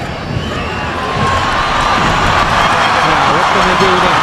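A home crowd at an international football match between Puerto Rico and Spain roars continuously, the cheering swelling in loudness partway through, with a commentator talking over it.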